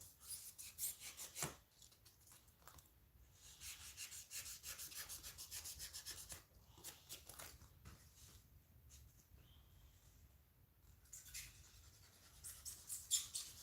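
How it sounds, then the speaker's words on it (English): A razor blade drawn across a Kershaw knife sharpener gives repeated close, dry rasping strokes, bursts of scraping separated by brief pauses, fairly quiet and with no voices. "This is a Kershaw knife sharpener that I use for razor blades now."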